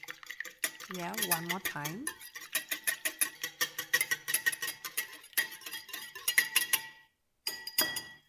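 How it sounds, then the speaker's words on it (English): Egg beaten with lemon juice in a bowl, a rapid rhythmic clinking of a whisk against the sides that runs steadily and then stops briefly before resuming, close and clear, with a short spoken remark near the start. "Whisking."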